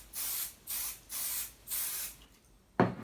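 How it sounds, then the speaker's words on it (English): Spray adhesive hissing onto quilt batting in four even, short bursts with brief pauses between them, followed by a sharp handling knock near the end, close and fairly quiet. "And then next you're going to spray the batting."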